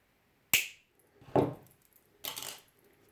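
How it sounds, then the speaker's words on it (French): Wire cutters snip iron wire flush at the base of a paper rose stem, three sharp, quiet clicks spaced apart in an otherwise silent room. "Je vais aller prendre une pince coupante. Je coupe à ras."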